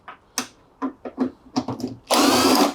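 Power drill backing screws out of the top panel of a Bosch washing machine: several short whirring bursts with pauses between, ending in one longer, louder run, close by and with no talking.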